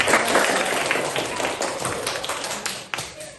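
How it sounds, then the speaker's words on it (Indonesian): Classroom of students claps together after an ice-breaking game, a dense, fairly loud burst of many hands clapping that holds steady and then thins out near the end. "Oke, tepuk tangan untuk kita."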